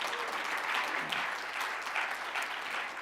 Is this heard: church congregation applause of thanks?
yes